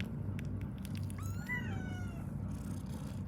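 Week-old kittens give a few thin, rising meows, one or two clear cries amid a soft indoor background hum, moderately close with no talk.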